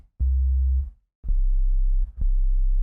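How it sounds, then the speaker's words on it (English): An Omnisphere synth bass set to a sine wave and transposed down plays three deep, smooth, clean notes with brief gaps between, alone and prominent. "So we're going to change this to a sine wave. I'm actually going to transpose it down."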